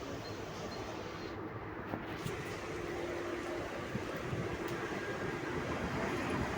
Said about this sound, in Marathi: हे बघा आता इथे दुसरी लोकल चालली आहे.